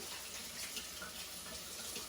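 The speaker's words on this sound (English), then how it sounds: "Give my hands a quick wash." Tap water runs steadily into a kitchen sink for a hand wash while cooking a stuffed seitan roast, a soft continuous splashing stream at moderate distance with no talk over it.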